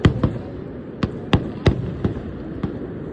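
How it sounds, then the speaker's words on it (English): Fireworks at a display go off in a series of sharp, distant pops and cracks, about eight spaced bangs over a few seconds, with faint crackling between them and no talk. "Or it's just one firework just getting launched."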